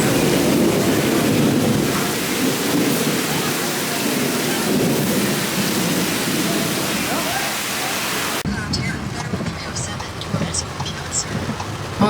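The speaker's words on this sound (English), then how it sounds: "it started pouring down rain while we were in the restaurant, and when it rains here, it rains so hard" Heavy rain pours down in Tulum, Mexico, as a dense, loud, close hiss that fills the air for about eight seconds, then gives way to quieter ambience.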